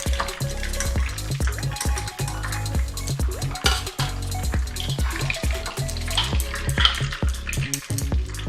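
Fish fried brown in hot oil in a pan for Kolkata-style chilli fish gives a steady, close sizzle with clinks and scraping as the pieces are slowly lifted out; the frying runs the whole time.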